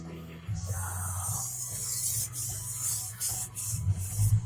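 A gyuto chef's knife is stroked across a strop, producing soft, close rasping sweeps in a few repeated passes over a low background hum, with no talking.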